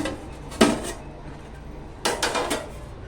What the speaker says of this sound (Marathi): आता आपण ना झाकण उघडून बघूया